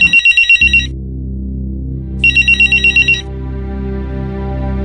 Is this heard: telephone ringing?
yes